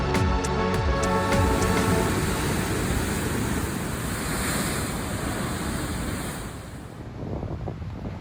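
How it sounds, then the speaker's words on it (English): Raging ocean waves crash and surge far below rocky shoreline cliffs, a loud continuous roar of surf with wind buffeting the microphone, no voices present. "many meters down, the raging ocean put on a beautiful show of power"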